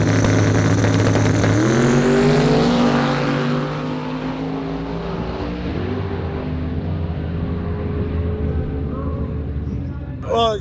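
A drag race car on slicks roars hard under acceleration at Bradenton, the engine note climbing through gear changes as it pulls away and recedes into a fainter drone.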